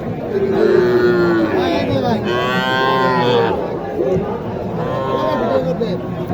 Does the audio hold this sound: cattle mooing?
yes